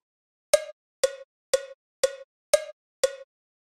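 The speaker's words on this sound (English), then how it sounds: "You can also change the metronome sound to, for example, a hi hat" Six evenly spaced metallic cowbell clicks ticking at a steady metronome pace, dry and isolated against silence.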